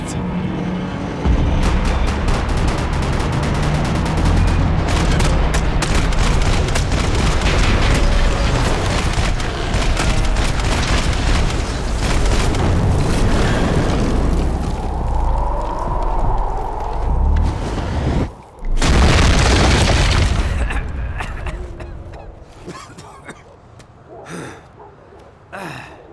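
Loud, dense gunfire and explosions from the Max Payne 3 video game roar almost without a break for about twenty seconds, with one heavy blast near the end, then fade into scattered quieter shots.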